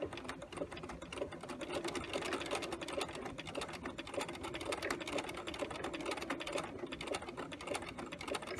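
A sewing machine stitches a fly zipper in a steady, rapid mechanical whir, close and continuous with no break and no talking.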